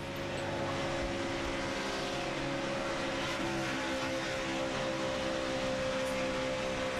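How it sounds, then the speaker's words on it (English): Onboard a NASCAR race car at Talladega, the engine roars in a constant, dense, high-revving drone for several seconds with no talking. "let's take another wild ride and go on board with Trevor Bayne."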